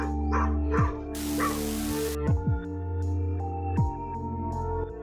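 A dog gives a few short barks and yips with whimpering tones, close and fairly loud, against a steady tonal background with a brief burst of noise partway through.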